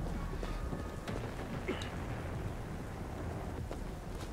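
Steady rain hisses in a broad, constant wash in the video game Killing Floor 2, with faint distant rumbles of thunder beneath it and no voices.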